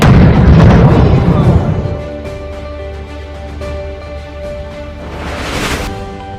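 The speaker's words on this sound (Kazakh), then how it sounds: "Арыстағы алапат жарылыс." A massive explosion in Arys hits with a loud deep boom at the start, then rolls into a sustained rumble as music-like tones rise in the background.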